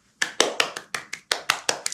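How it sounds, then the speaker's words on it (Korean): Hands clapping about ten times in an even, brisk rhythm, sharp and fairly close, with no voices over it. "박수부터 쳐보겠습니다."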